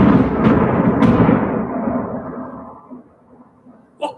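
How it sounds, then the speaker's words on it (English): A loud thunderclap cracks, then rumbles at length and slowly fades away before a brief sharp noise at the very end. "That was a great thunderclap to end the show with, wasn't it?"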